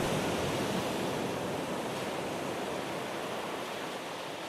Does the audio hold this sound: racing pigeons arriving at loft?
no